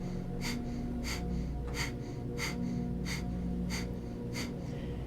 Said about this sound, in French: La respiration de feu, c'est une respiration rythmique et continue et assez rapide, au moins une expire par seconde